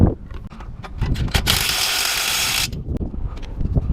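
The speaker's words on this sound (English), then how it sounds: "So I'm gonna go ahead and lock these two bolts in." Ratchet tightening alignment bolts on a Subaru WRX suspension during a coilover install, heard as rapid close clicking bursts with a longer continuous whirring stretch in the middle, no talking.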